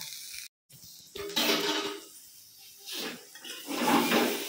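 Water is poured into a cooking pan of potatoes frying on a gas flame. A brief gap gives way to bursts of hissing, rushing water and sizzle that swell and fade several times.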